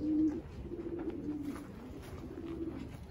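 Racing pigeons at a Texas loft coo in low, throaty repeated calls, fairly close and moderately loud, with soft overlapping coos continuing through the short stretch.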